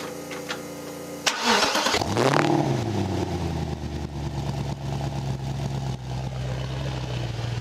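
A home-built Ford GT40 replica's engine cranks and fires at once with a loud burst, revs sharply, then settles into a rumbling, lumpy idle close by, with no talking over it.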